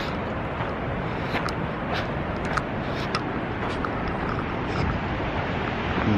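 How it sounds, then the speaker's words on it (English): A big 200-foot waterfall in Havasupai roars as a steady, broad wash of falling water, continuous and fairly loud, with a few faint thin sounds on top. "that is the nice big waterfall right here"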